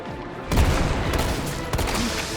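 Gunfire in the video game Resident Evil 3 Remake: a heavy burst of shots breaks in sharply after a brief lull, followed by rumbling blasts and further impacts, loud and close in the game mix.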